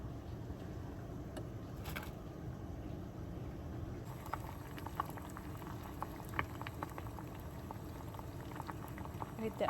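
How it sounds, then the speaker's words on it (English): Water with dry onion skins boiling in a saucepan, a steady bubbling simmer with busier popping toward the end, heard close and alone. "Let it come to boil."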